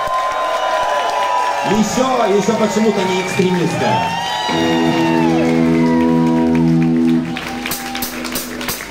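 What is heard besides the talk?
audience applause at a concert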